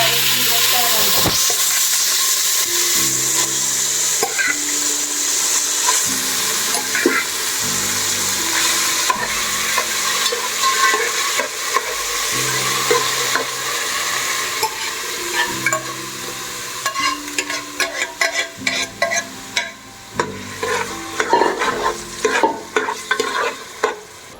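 Mashed carrot stirred and fried in hot ghee in a pot for gajar halwa, a steady sizzling hiss with scraping stirring strokes that grow sharper and more clattery toward the end, no talking.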